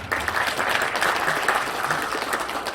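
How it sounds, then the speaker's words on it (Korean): A forum audience in Osan gives a short, full round of applause for Mayor Park Sang-woo, with dense, continuous clapping from many people at a steady, fairly loud level. "우리 박상우 시장님께 우리 응원의 박수를 한번 보내주시기 바랍니다"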